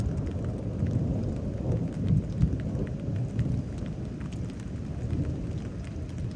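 Thunderstorm over Houston, Texas: heavy rain pours steadily while deep thunder rumbles roll underneath, with a louder crack near the middle, dense and continuous with no voices.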